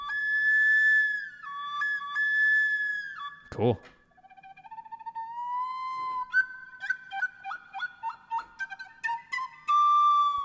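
Native American flute effects from a Ventus sample library: a series of whistly tones, bends and short chirping little calls, with a quick breathy burst midway and rapid staccato figures near the end, fairly clear and close.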